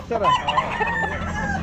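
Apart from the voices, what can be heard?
chickens clucking at a pet market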